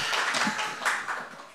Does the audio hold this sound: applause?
yes